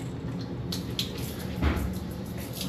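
A small hotel shower runs with weak water pressure, giving a thin, steady hiss of spray with a few soft splashes and drips close by.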